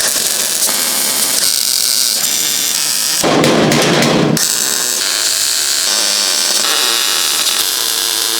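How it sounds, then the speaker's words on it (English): MIG welding on a car floor panel of a Ford Fiesta XR2, a steady close crackling buzz with a brief louder, harsher burst in the middle. "We have to do a bit of left-handed welding"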